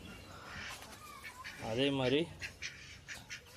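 Ducks quack in a rapid run of calls on a farm with guinea fowl nearby, close and fairly loud, with someone speaking just before and after the calls.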